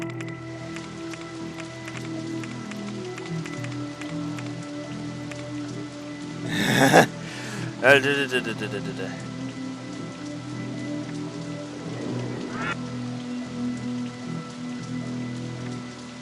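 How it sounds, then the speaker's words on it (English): Steady rain in the video game OpenRCT2 patters across a surface throughout, with a couple of brief louder splashes or crunches partway through. "More rain."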